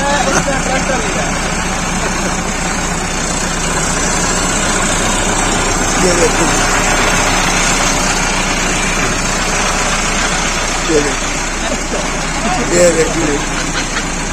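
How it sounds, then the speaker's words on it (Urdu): A new 385 tractor engine runs steadily close by on a farm in Pakistan, a loud constant diesel drone with someone speaking over it at times. "ابو پہلی دفعہ چلا رہے ہیں 385 جو ہم نے نیا لیا ہے"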